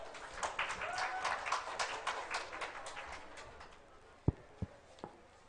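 A school speech competition audience applauds a speaker, a soft, steady patter of clapping from a crowded hall that fades out, followed by a few isolated knocks.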